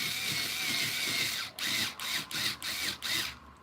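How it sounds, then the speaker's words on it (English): A power drill whirs in several short bursts, stopping and restarting roughly every half second, close by with a faint background hum. "So I'll take my trusty machine gun or screw gun or drill"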